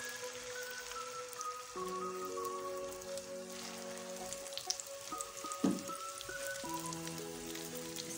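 A vegetable omelette mixture fries in oil in a pan over medium flame, giving a steady, close crackling sizzle like light rain throughout.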